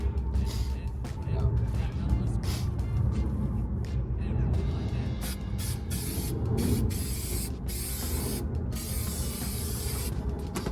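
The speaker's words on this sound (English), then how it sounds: "We're spraying the back here with a heavy coat" A continuous hissing spray of insulation coating being applied inside the back of a Chevy City Express van, steady and close with brief pauses and faint mechanical clicks, and someone speaking at points.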